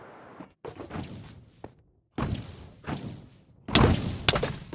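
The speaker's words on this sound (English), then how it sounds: "Oh, that's a lot of cannon fire." Cannons firing in the Minecraft video game, several heavy booming thuds in separate bursts with short gaps between them, each blast close and loud with a rumbling tail.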